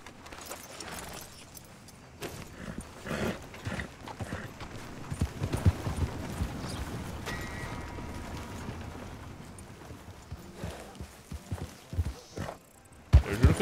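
Horse hooves clip-clop at a steady walking rhythm in Red Dead Redemption 2, moderately loud and close amid game ambience and jangling tack, with no talk over it.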